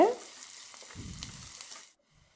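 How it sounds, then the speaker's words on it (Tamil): Onions, garlic and curry leaves sauté in a pan with a soft, brief sizzle and a short low scrape of stirring, then the sound cuts off abruptly. "இப்போ வெங்காயத்தை நம்ம நல்லா வதக்கிக்கலாங்க"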